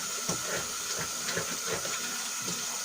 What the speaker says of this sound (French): je le passe sous l'eau tiède et je le rince